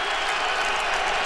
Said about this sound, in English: Third down, crowd on its feet.